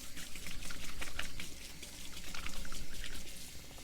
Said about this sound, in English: I'm going to rinse my hands over here